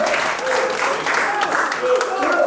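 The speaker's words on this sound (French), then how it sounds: "On peut les applaudir, Évreux." Congregation applause at a Normandy evangelical churches gathering in Caudebec-en-Caux, steady crowd clapping that holds for the whole stretch, with voices speaking over it.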